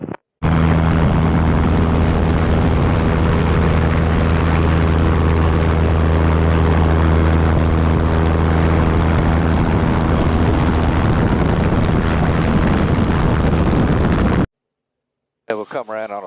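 A helicopter lifts away with a loud, steady rotor and turbine roar that holds for about fourteen seconds and then cuts off abruptly, followed by a short faint tail.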